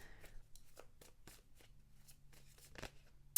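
Tarot cards are shuffled by hand in a quiet room, a series of soft, irregular riffling slaps and flicks, close and fairly faint.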